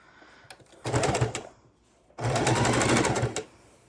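A sewing machine stitches around the edge of a fabric microwave potato warmer bag in two close, steady bursts, with a short pause between them and no talking.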